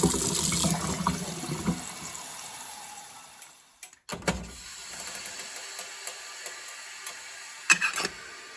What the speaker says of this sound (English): we're going to boil some water in this